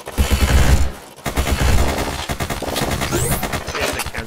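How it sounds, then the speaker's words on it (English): Sustained rapid minigun fire in the video game Zombs Royale, a dense, loud stream of shots with a brief break near the start, overlaid with other game effects. "Minigun."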